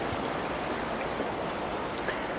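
Small creek rapids below an old spillway rush steadily, a soft, even broadband flow of water heard from nearby with no other sounds.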